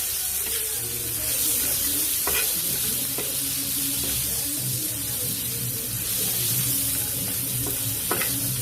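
Bitter gourd slices frying in a pan in the oil-free crispy kaarle style, with a steady broadband sizzle running throughout and occasional stirring clatter from turning the slices over, close and even in level.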